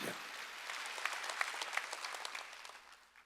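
A church congregation applauds during a Wednesday worship service, a fairly faint, dense patter of many clapping hands that swells briefly and then tapers off.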